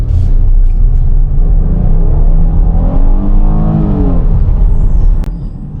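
A 2022 Chrysler Grand Caravan minivan engine roars loud and close under a launch, a heavy rumble that climbs in pitch as it revs up, then drops off abruptly near the end.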